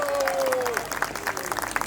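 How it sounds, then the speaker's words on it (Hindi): Wedding guests clap in a brief, uneven round of applause, fairly soft and scattered, with a voice and background sounds mixed under it. "दोनों साइड से एक बार जोरदार तालियां हो जाए आप सभी की तरफ"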